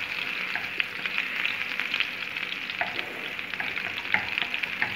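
Garlic and ginger sizzling in an oiled pan for paneer curry, a steady hissing fry with light scraping taps from stirring, close and even throughout.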